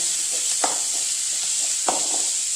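Curry leaves and green chillies sauté in oil in a pan, a constant bright sizzle with two sharp scrapes of a stirring spoon, no voices present.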